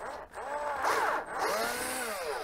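A small power drill whirs in short bursts, widening a hole in plastic to 4.5 mm in an Epson printer, its pitch rising and falling as it bites, fairly close and moderately loud.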